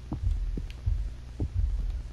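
A throbbing double-beat heartbeat from the horror video game Emily Wants To Play Too, four low thumps pulsing steadily under a faint hum, with no voices.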